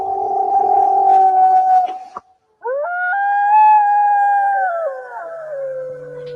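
Two short howls from a recording of unknown origin: a steady wavering tone fades out, then after a brief gap a second rises, holds and slides down, fairly loud and clear.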